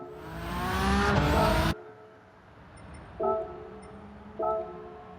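A Nissan GT-R R32 tuned to 700PP on a Racing Soft setup in Gran Turismo 7 roars loudly as it revs hard, then cuts off sharply, followed by two brief quieter engine blips over a low idle.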